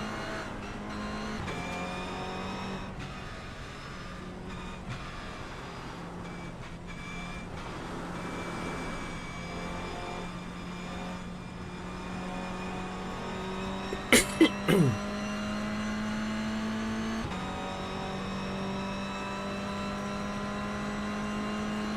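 A race car engine in iRacing hums steadily for a long stretch, its pitch shifting with gear changes, broken by a brief sharp squeal or scrape midway, with someone talking over it throughout.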